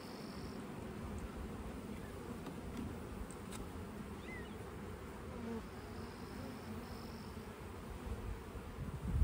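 Honey bees swarm around an open hive colony during an inspection, making a dense, steady buzz that stays close and fills the whole stretch, with no voices.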